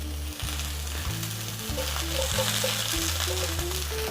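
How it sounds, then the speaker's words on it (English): Steady, loud sizzling of smoked pork and vegetables frying in oil in a hot pan, crackling continuously, with a low repeating hum in the background. "we should hear a bit of a sizzle"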